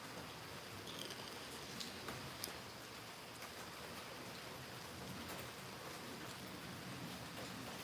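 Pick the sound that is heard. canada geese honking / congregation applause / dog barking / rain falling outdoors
rain falling outdoors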